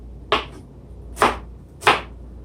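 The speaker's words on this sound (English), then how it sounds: "I roll it nice and tight so that I can just cut straight through and straight down" A sharp knife chops three times through tightly rolled collard green leaves onto a cutting board, each stroke a crisp, distinct thunk with short pauses between.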